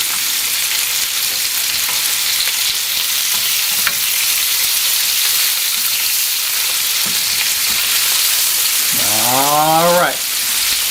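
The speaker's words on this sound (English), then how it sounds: "you're going to turn the cutlets and allow the other side" Cutlets frying on a grill, a steady loud sizzle throughout with spitting crackle, ending with a brief rising squeal near the end.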